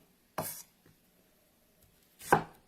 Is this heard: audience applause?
no